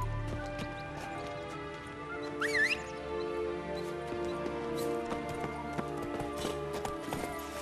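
Horse hooves clop at a steady trot in The Witcher 3 video game, an even rhythmic beat under a soft musical bed with a brief whinny-like flourish partway through.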